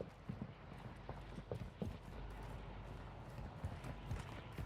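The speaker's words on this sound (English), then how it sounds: "I hear footsteps" Footsteps in Call of Duty DMZ sound as a series of quick, irregular hard thuds, like boots on a firm surface, moderately close over a steady low background rumble with no speech.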